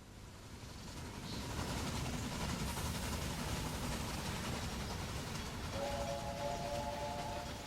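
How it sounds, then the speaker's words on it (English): Trains in the Railway Empire video game run and pass each other on a loop, giving a steady rolling rumble throughout, with a tonal horn-like blast sounding near the end. "Our other train is leaving, and this one is going to get to this point here. They're going to basically pass each other in this loop."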